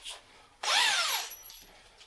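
A power drill whirs briefly at close range for under a second as a screw is driven into wood, its pitch sweeping up and down before it stops.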